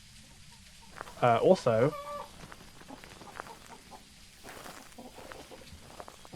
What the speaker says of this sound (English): we have some ghost chickens in here because you can hear the chickens, but you can't quite see them